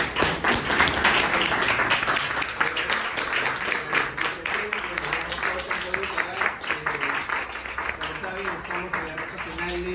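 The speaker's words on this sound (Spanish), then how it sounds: "Y bueno, un aplauso también." Audience applause after an academic talk on Qhapaq Negro dance representations from Paucartambo, a steady wash of many hands clapping for the full stretch, fairly loud and dense, with voices mixed in beneath it.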